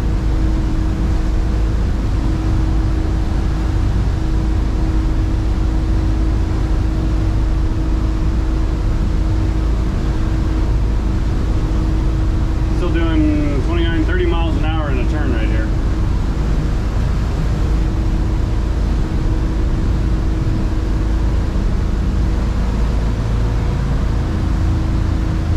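A Cruisers 39 EC boat powered by Volvo IPS 500 diesel engines runs at about 75% load, giving a steady, loud drone with a constant hum and a brief tonal flutter midway.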